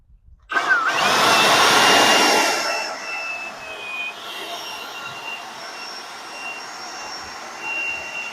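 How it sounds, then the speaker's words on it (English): A small handheld blower dries a freshly cleaned car wheel, starting with a loud, steady rushing whoosh for about two seconds, then easing into a softer continuous hiss with a faint whine running under it. "We'll use our trusty little blower here."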